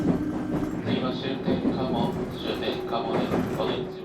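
A train on the Kansai Main Line running on a winter morning, a steady rumbling interior ride with faint rail clatter and a low hum throughout, fairly even in loudness.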